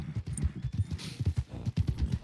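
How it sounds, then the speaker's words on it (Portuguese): Hooves of a galloping horse in the video game Red Dead Online, a quick, steady clip-clop rhythm of close, repeated thuds running throughout at moderate loudness. "Nossa, mas o cavalo é bem feito nesse jogo, né?"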